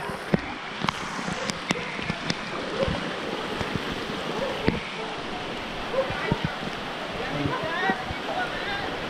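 Floodwater from Typhoon Carina flowing around submerged houses in Barangay Sta Lucia, Novaliches, a steady rushing wash with scattered splashes and knocks, while someone speaks over it.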